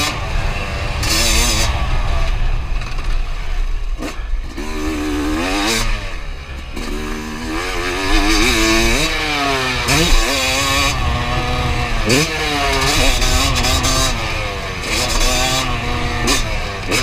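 Dirt bike engine at a motocross track revving up and down repeatedly, rising and falling whines with a lingering high idle between throttle blips that hangs before dropping, loud and close.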